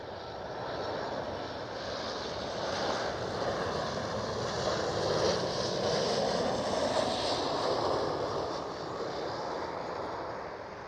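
An empty KLM Boeing 737 at Amsterdam Schiphol airport produces a steady, fairly loud jet engine roar that swells gently and fades slightly, with no speech over it.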